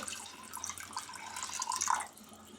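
Water pours and splashes into a pressure cooker holding soaked dal, a short, fairly faint trickle close by with no talking.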